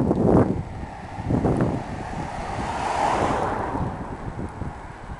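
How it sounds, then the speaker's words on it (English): Strong gusty wind buffets the microphone, roaring and rumbling loudly and unevenly throughout, with no voices. "I think it's going to be a windy one"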